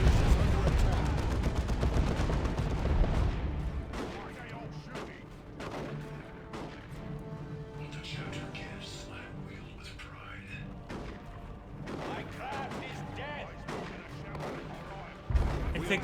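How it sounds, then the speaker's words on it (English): Mortar barrage pounds a Dawn of War 2 battlefield between Tech Marine and Ork Kommando forces, heavy booms and blasts rolling in loud at first, then a steady clatter of weapons fire with further explosions under a commentator's voice. "Here comes the mortar barrage."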